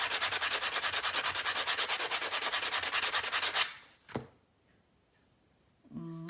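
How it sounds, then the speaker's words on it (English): A sanding block rubs rhythmically back and forth over a cut handmade earring piece, flattening a lump along one edge. The strokes are quick, close and even, then stop, followed by a faint knock and a short scrape. "I'm going to try to use the sanding block to get rid of that lump"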